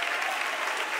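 A church congregation clapping their hands during a sermon, a brief, dense and steady burst of many claps, close and even, with no distinct speech over it.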